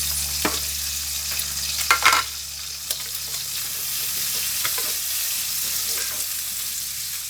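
Onion frying in a pan, a steady close sizzle with a few louder stirring scrapes near the start and middle.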